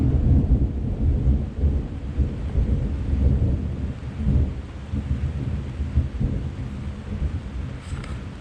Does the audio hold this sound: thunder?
yes